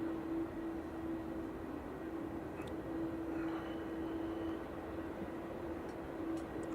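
An airliner lines up on the runway at Manchester Airport, its engines giving a low, steady distant hum with a faint whine, without voices.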